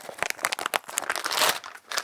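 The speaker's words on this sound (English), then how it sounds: "I can't even get into a plastic bag today." Plastic bag packaging being pulled open by hand, a fast run of close, dry crinkling and crackling bursts that swell into a dense rustle before easing off.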